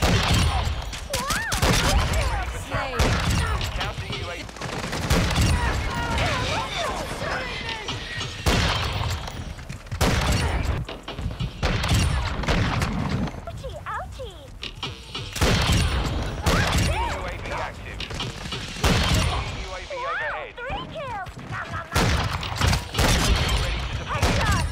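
Rapid bursts of automatic gunfire from a Call of Duty Modern Warfare 2 match, loud and close, come in repeated volleys with booms and mechanical clicks between them, while a player talks over the action.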